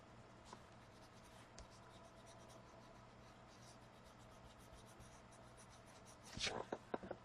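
Colored pencil rubbed and blended on paper while coloring, a soft, close, steady scratching with repeated strokes, ending in a few quicker, louder scrapes.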